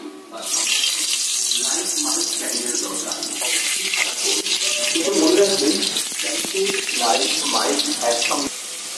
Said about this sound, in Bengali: জল ছিল, এর জন্য প্রচন্ড তেল ছিটকাচ্ছে